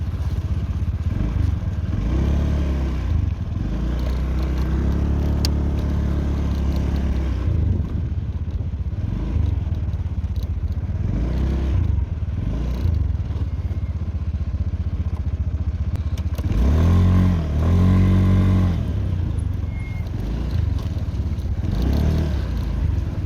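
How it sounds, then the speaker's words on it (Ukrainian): A Honda Dio 110 scooter engine starts, idles and revs in surges, rising and falling through the clip with a rattling, buzzing tone, close by. "Приємно скутер стартує, потужності йому вистачає точно."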